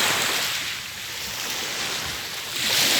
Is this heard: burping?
no